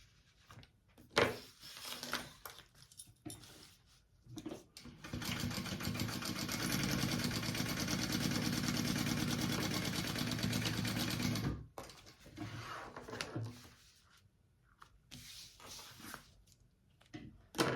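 Sewing machine basting raw edges of a sling bag, a steady whirring run of stitching lasting about six seconds, framed by quieter handling and fabric rustle before and after.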